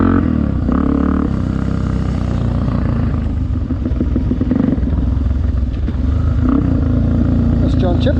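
A dirt bike engine drones and revs continuously during an off-road ranch ride, close and loud, with rough clattering from the terrain and a voice talking over it.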